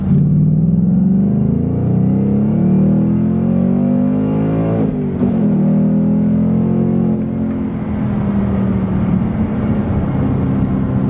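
A 2019 Ford Mustang Bullitt V8 pulls hard in second gear from low speed, its deep engine note rising steadily, dipping briefly mid-pull, then climbing again loud and close.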